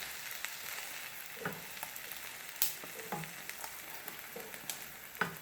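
A chicken-stuffed omelette with cheese fries quietly in a pan just after being flipped, giving a soft steady sizzle with occasional crackles and light taps.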